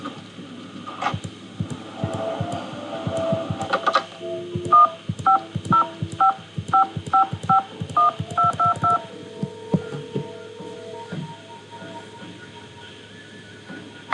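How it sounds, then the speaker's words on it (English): A telephone keypad dials a number in a Nancy Drew mystery adventure game, a rapid series of about a dozen crisp, evenly spaced DTMF tones over a low background hum. "I'll call Chaco Canyon, then I'll call Prudence"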